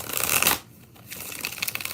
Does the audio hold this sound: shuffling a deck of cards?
yes